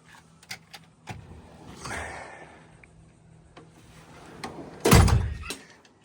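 A homemade, insulated galvanneal steel door on a converted school bus is handled: a few soft clicks and rattles build to a single near, solid thunk as it shuts, with quiet rustling in between.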